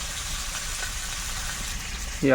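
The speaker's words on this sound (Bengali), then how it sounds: "ওদিকে মাছ ভাজা হচ্ছে" Fish fries in oil with a steady, hissing sizzle throughout, joined at the very end by a sudden louder sound.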